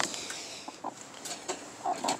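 Chickens on a homestead cluck in short soft bursts while being moved, a few scattered calls close by over quiet background rustling.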